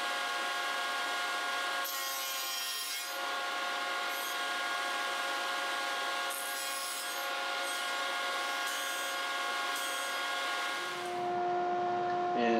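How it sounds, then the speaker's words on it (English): A table saw fitted with a dado stack cuts into a board at half its thickness. It makes a steady whining drone with short rasping bursts of wood being chewed, then a pitch change as the cut finishes and the blade spins down. "we're back at the table saw, where I installed my dado stack and dialed in the height of the blades"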